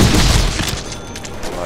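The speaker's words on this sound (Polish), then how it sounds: "Granat." Grenade blast in the Deadpool video game: a loud low boom at the start that rumbles and decays over about a second, leaving a dull fading tail with no voices.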